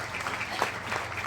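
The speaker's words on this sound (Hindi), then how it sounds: "तो मैं चाहूंगा इन सबके लिए एक बार जोरदार ताली हो जाए" An audience claps in a dense, continuous burst of applause, steady and fairly loud for its short length.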